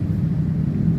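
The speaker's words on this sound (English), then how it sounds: "That's a car. It sounds like a motorcycle, but I can tell by how soft the engine is." A car passes on a county road late at night, a soft, low engine rumble that holds steady throughout, heard alone without talk.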